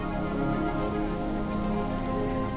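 Steady rain falls on a surface in Sulawesi, Indonesia, a dense continuous patter of drops at even loudness with no voices.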